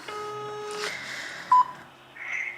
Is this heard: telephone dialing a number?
yes